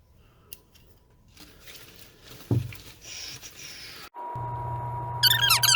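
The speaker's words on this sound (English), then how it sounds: "Let's trim out these big long ones first." Scissors trimming long aquarium plants in a bio-active tank give a sharp close snip amid soft rustling and water patter, followed by a steady low hum and faint high chirps near the end.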